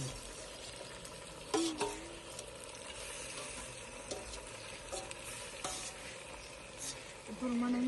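Country chicken fries in a pan with a constant soft sizzle, while a spatula scrapes and clatters against the metal in irregular strokes, close up and fairly quiet.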